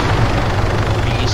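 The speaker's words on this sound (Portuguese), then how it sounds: "Tá muito barulho aqui, esse helicóptero desgraçado." Loud, dense helicopter rotor noise in the video game ARMA 3, with a low rumbling thump filling the entire moment, close and overpowering.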